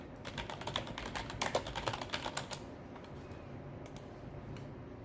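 Quick, uneven keystrokes on a computer keyboard fill the first half, close but quiet, then give way to a few scattered clicks over faint room noise.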